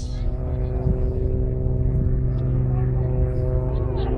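Extra 300 aerobatic aircraft of the Blades fly twinkle rolls at an RAF Leuchars airshow, a steady droning propeller engine tone heard at a distance under a commentator talking.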